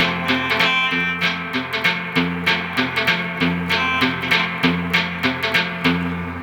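Guitar played in boom-chicka-boom picking style, with an added sixteenth note. Muted bass notes alternate with crisp chord chops in a steady, driving rhythm, up close and alone.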